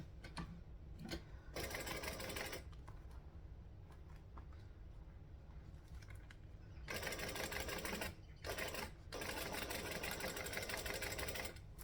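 A sewing machine stitches down an opened seam in several bursts of rapid mechanical whirring, close and clear, with quieter pauses between runs and a long continuous run near the end.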